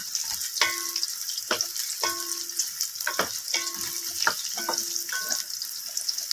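Onion, garlic and carrot sautéing in a pan for lentil vermicelli soup, a steady sizzle with repeated sharp scrapes and clinks of a spoon stirring against the pan, close and fairly quiet.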